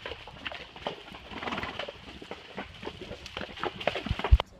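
Horses walking on a trail ride, hooves clip-clopping in an irregular rhythm close by, with scattered thuds and a sharp knock near the end, no talking.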